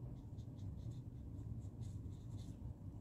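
A small paper mouse drawing for a Christmas card being coloured in, with soft, quiet scratchy strokes of a marker or pencil on paper repeating in short bursts.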